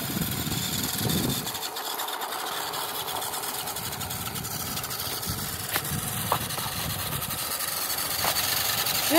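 Volvo D12 diesel truck engine running steadily under load while hauling gravel, with a squatting rear suspension, a constant low drone with vehicle rumble and road noise throughout.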